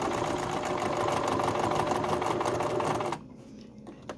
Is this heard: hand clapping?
no